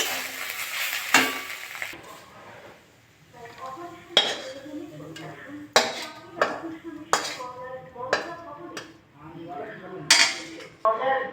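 Fried banana stem with prawns is lifted out of a pan, with sharp metal scrapes and clinks of a utensil against cookware over a faint sizzle, in separate irregular strokes.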